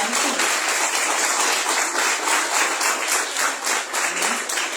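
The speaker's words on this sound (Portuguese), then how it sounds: "Aplaude o Senhor, mais uma vez" A church congregation applauds during a missions service, steady dense clapping filling the whole stretch at an even, sustained level with no break.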